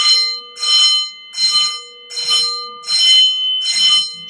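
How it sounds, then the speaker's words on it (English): A school bell rings loudly in six even bursts of bright, ringing clangor, each about half a second long and separated by short gaps, heard alone and close. "that's a school bell"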